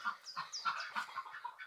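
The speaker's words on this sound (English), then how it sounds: "There's a hen laying eggs" A hen clucks close by in short, repeated bursts outdoors near a creek, each cluck fairly faint and separated by brief pauses, with no talking over it.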